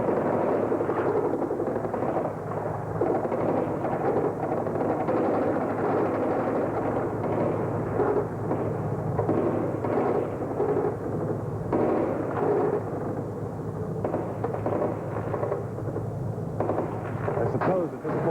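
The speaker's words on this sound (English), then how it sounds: "That gunfire you hear is being picked up on the microphone from the camera showing you these pictures." Gunfire in Moscow during the October 1993 crisis, picked up at a distance by a news camera microphone: a continuous rumbling clatter of shots and bursts, with talk heard faintly beneath.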